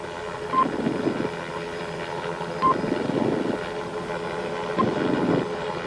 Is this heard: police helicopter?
yes